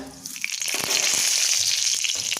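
Black cumin seeds hit hot oil in a pan where fish and eggplant were just fried, bursting into a loud, close, continuous sizzle after a brief quieter start.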